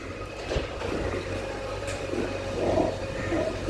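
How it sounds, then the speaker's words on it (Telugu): At Naupada Junction railway station, a train makes a steady, fairly near low rumble with faint rolling rattles, continuous throughout. "నావపడ కొత్త రైల్వే స్టేషన్ అనమాట చాలా చాలా బాగుంటుందనే చెప్పాలి"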